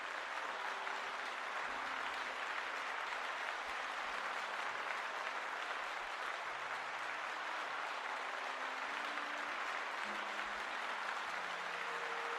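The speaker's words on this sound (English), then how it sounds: "Let's give them a round of applause." A live-stream audience claps steadily for a dance performance, a dense wash of applause that holds at an even, fairly loud level across the whole stretch, with no one talking over it.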